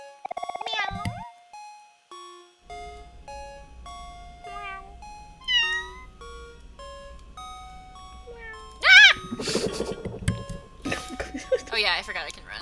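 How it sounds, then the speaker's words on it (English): A cat meows in the video game OMORI amid chiming, melodic game sound effects, with a voice heard over parts of the scene. "Hi, Mr. Kitty. Meow."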